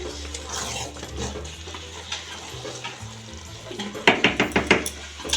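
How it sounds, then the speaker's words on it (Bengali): Dried mutton being stirred into Bengali polao in a pot: a steady scraping and shuffling of spoon through rice, then a run of sharp, rhythmic metal clanks against the pot near the end. "এখন আমি মাংসটা দিয়ে দিচ্ছি। মাংসটা সম্পূর্ণ শুকিয়ে নিয়েছি, এখন মিশিয়ে নিচ্ছি।"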